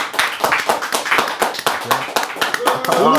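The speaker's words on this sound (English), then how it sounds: "And clap it up." An audience at a Philadelphia stand-up show claps in a loose patter of sharp slaps running beneath people talking loudly throughout.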